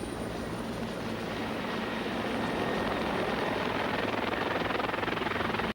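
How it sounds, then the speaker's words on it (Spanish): A Norwegian Jäger commandos' military helicopter in flight, a loud, steady rotor and engine roar with rapid blade chop, continuous throughout with no voices. "Los Jägers utilizan el helicóptero como medio de inserción ideal"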